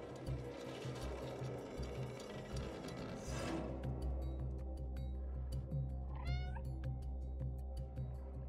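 A cat meows in the video game Stray, heard over a steady, busy backdrop of mechanical whirring and ticking, with one short meow rising clearly near the end.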